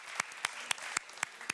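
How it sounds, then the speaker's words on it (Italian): Applause for a wedding gown at a bridal atelier competition on a TV show, heard as a few sharp separate claps spaced about a quarter second apart over a soft, steady crowd wash. "Un applauso a quest'abito stupendo."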